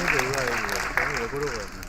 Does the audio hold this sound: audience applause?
yes